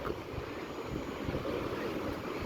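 Rushing floodwater of the Ravi river after dam gates at Madhopur were opened near Pathankot, a loud continuous roar and churn with wind buffeting the microphone.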